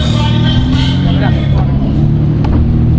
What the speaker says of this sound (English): driving a McLaren Elva